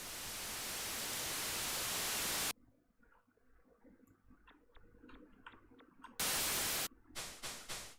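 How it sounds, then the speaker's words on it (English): Loud broadband white-noise static in a surreal dream-diary video game, hissing in long steady bursts that cut out abruptly to quiet ticks, then return in several short blasts near the end. "Could do a bit less white noise"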